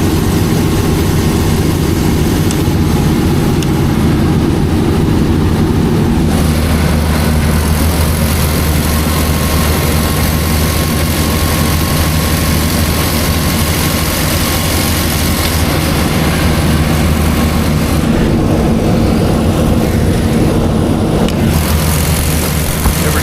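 A 200 kW generator driven by a Cummins QSB 6.7 liter diesel engine runs under load, a loud, constant low droning roar that holds steady for over twenty seconds with no voices.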